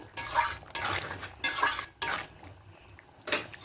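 A spoon scrapes and clatters against a cooking pot while vegetarian ghugni is stirred with fried coconut, in several irregular close strokes with short pauses between them.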